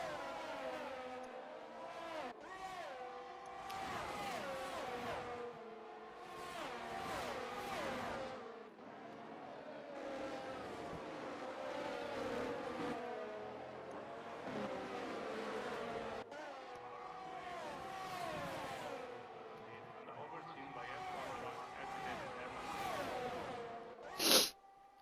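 Race cars roar around the Imola circuit in a sim racing game, engines rising and falling through repeated acceleration and gear changes, steady and fairly loud with a short sharp burst near the end.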